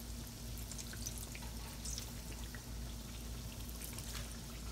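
Sweet potato pies fry in hot oil with a steady, soft bubbling sizzle and scattered crackles above a low constant hum, no voices.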